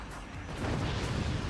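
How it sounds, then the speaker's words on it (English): Explosions in the physics-based fort-building game Forts, a low, rumbling cluster of booms rolling together, faint and muffled, swelling slightly toward the end. "It's just explosions everywhere."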